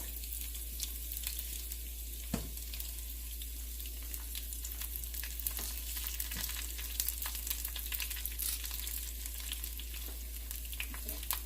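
Garlic and asafoetida fry in hot oil for a coconut chutney tempering, a steady soft sizzle with faint crackles and an occasional brief clink, no voices.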